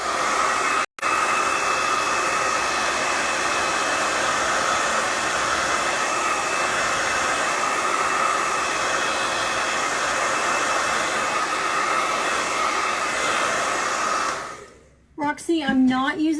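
A hair dryer blows on paint on a rustic sled, a loud, close, steady whoosh running for about fourteen seconds, briefly cut off near the start, then switched off as a voice begins talking.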